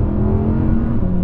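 Rear-wheel-drive Audi R8 engine held on the throttle, a steady, loud, close drone with constant pitch and no voices.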